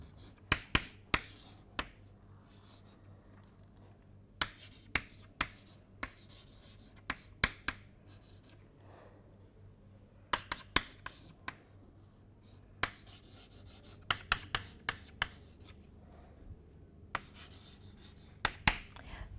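A pen writes out equations in bursts of scratchy strokes and sharp taps, with pauses between groups, close and fairly quiet over a low steady hum.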